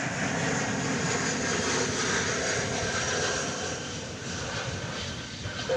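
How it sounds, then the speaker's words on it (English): A Japan Airlines airliner at Dallas Fort Worth International Airport, its engines producing a steady, loud broadband roar that holds throughout and eases slightly toward the end, with no talk. "We get a little better look at the special livery on that Japan Airlines plane."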